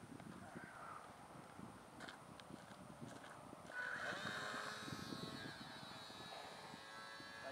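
A small RC model plane takes off from the ground, its electric motor rising into a buzzing whine partway through, with people talking nearby and faint outdoor background noise.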